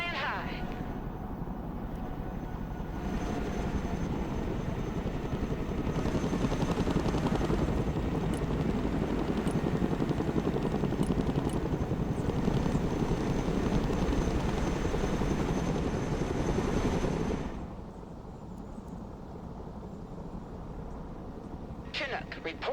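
A Chinook helicopter in the video game Broken Arrow drones with a loud, continuous rotor thrum that swells and holds for most of the clip, then drops to a quieter steady rumble near the end.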